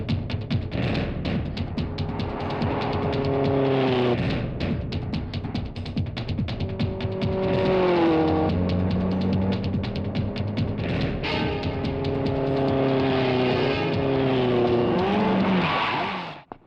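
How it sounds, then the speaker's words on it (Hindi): A car engine in a dubbed film scene revs and rises in pitch again and again as the car pulls away, loud and close, with rapid ticking and a sudden cut at the end. "ड्राइवर, गाड़ी चलाओ।"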